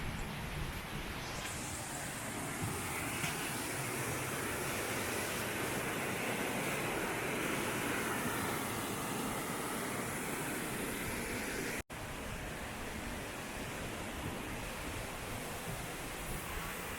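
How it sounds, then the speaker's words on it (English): Sgwd Gwladus, a small waterfall in Wales, pours in a steady, broad rushing roar that fills the whole stretch without pause, with no voices. "So we're at the first little waterfall that was planned to come to, Sgwd Gwladus."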